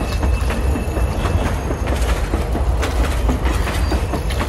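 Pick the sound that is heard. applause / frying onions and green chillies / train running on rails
train running on rails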